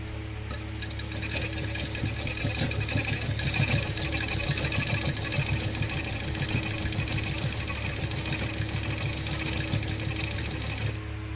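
A sewing machine runs steadily, stitching a seam along fabric to finish the edge, with a continuous fast mechanical whir and rapid needle clatter close by for the whole stretch, no talking.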